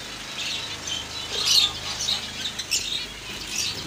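Breeding finches in cages in Karachi give faint, scattered, high chirps and tweets at a moderate distance over a quiet background hiss, with occasional soft fluttering.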